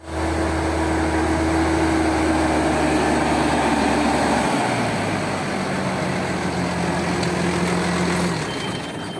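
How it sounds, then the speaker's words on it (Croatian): A tractor engine idles close by with a loud, steady low rumble, its pitch dropping partway through and then holding even, with no talking. "pa čiji vam je ovo traktor?"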